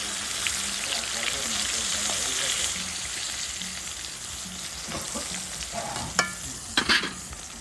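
Eggplant slices fry in a pan with a steady broadband sizzle throughout, joined near the end by a few sharp scraping clinks of a utensil against the pan.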